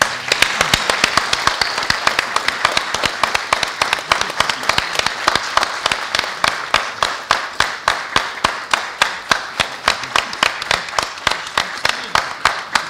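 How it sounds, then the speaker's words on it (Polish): A crowd claps together in a rhythmic, even beat, sustained and fairly loud throughout. "Nagrodźmy ich jeszcze raz oklaskami."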